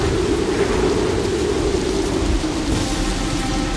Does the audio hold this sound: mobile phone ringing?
no